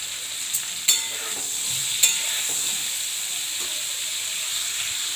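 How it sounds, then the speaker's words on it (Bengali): Raisins and cashews fry in a pan with an even, bright sizzle, broken by a few sharp clanks of a spoon stirring early on, then settling into constant hissing. "হালকা করে একটু ভেজে নেব। কিশমিশ দিয়ে দিচ্ছি,"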